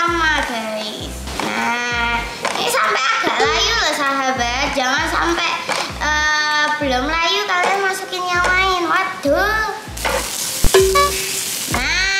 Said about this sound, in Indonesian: Kita tumis agak layu ya guys karena wortel itu layu